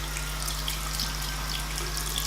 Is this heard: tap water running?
yes